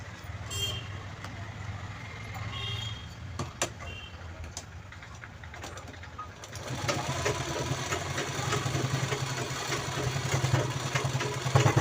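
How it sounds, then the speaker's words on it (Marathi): A sewing machine stitches the base of a handmade handbag. Quiet handling and clicks come first, then a steady, close, fast mechanical whirr of stitching runs from about six seconds to the end. "इथे पण हे बघा असा स्टिच करून घ्यायचं"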